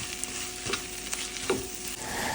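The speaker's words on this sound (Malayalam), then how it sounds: "ഈ മസാലയിലേക്ക് ആവശ്യമുള്ള ഉപ്പും കൂടി ചേർത്ത് നമുക്ക് ഒന്ന് മിക്സ് ചെയ്ത് കൊടുക്കാം." Onion masala for chicken fry sizzles steadily in a pan while a utensil stirs it, with occasional scraping knocks over a continuous close frying hiss and no talking.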